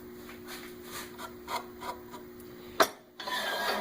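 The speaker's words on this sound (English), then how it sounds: "Go ahead and sand it up." Sandpaper rubbing a spinning spalted maple three-sided bowl on a woodturning lathe: a run of soft, repeated rasping strokes, then a sharp knock and a brief pause before a steadier, brighter hiss of abrasion resumes.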